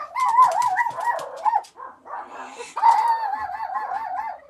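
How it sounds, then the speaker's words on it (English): Dogs bark and yelp loudly nearby in wavering, whining bursts, with a brief pause before another round of excited calls. "The dogs are going crazy."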